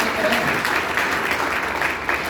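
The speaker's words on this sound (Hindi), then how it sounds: "हाँ सर के ताली बजाओ" An audience at a direct-selling seminar claps together, a dense, continuous burst of applause that stays loud and even throughout.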